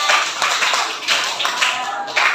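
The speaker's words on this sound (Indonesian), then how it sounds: "coba beri tepuk tangannya untuk temannya." A classroom of students claps for a classmate, a short burst of scattered hand claps that swells in uneven waves and stays fairly close and loud throughout.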